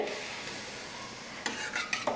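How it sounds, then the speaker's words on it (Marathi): Quiet bubbling and sizzling of spices simmering in tamarind water in a pan, with a few soft stirring scrapes near the end. "या चिंचेच्या कोळासोबत आता हे मसाले छान एक दोन ते तीन मिनिट उकळून घ्यायचे"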